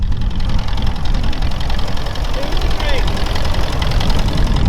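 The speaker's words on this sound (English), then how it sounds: "there is a lovely smell off that tractor running" A vintage tractor engine idles with a rumbling, knocking low drone throughout, running continuously at close range with some faint voices in the background.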